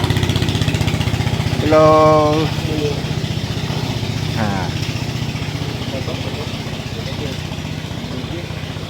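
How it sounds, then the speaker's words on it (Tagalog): A boat's motor chugs steadily and loudly on a river in Vietnam, a continuous close drone while people briefly call out over it. "Ayun, ang ingay. Bangkang di motor."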